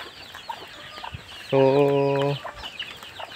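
A rooster on a farm lets out a single loud, drawn-out crow of about one second, with chickens clucking faintly around it and a brief word spoken nearby.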